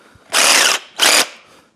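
A Ryobi power tool makes a rough cut through a scooter part in two loud, close bursts of high whining buzz. The first runs about half a second, then a brief pause, then a shorter second burst, with no talk.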